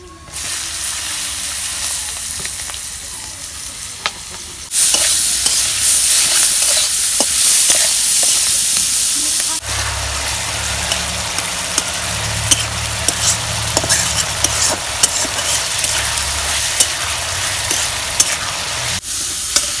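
Steady frying sizzle of dried fish with chili, onion, turmeric and salt, with stirring scrapes and clatters, loud and close, shifting in intensity partway through.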